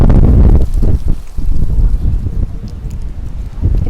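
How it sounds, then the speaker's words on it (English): Heavy gusts of wind in central Athens, Greece buffet the microphone in rough, rumbling bursts, loud and uneven, with no one speaking. "it's windy."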